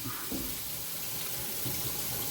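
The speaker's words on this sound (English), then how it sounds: "I'm gonna try to get some of it out with warm water and a good old-fashioned scrubbing pad and some regular dish soap" Warm water runs steadily from a tap into a sink while a cymbal is washed with dish soap. The splashing is continuous and close, with no talking.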